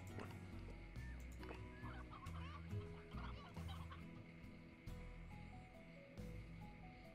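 Chickens clucking in the video game Slime Rancher, hens in a coop, repeated soft clucks woven into a steady bed of game music and ambient tones, no speech.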